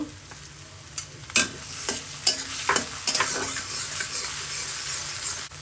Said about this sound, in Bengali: এখন দিয়ে দিচ্ছি পেঁয়াজ কুচি দিয়ে দিচ্ছি কিছু টমেটো